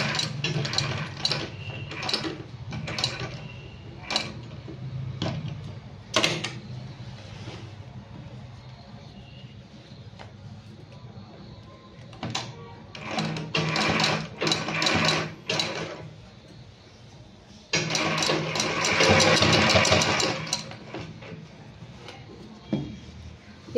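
Sewing machine running a straight seam along folded fabric, bursts of rapid mechanical clatter separated by pauses and handling noises, with one longer run near the end.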